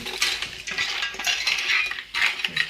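A utensil stirs red crab gravy ingredients in a metal pot, giving off a run of close, scraping clinks and knocks that rise and dip unevenly, with no talking.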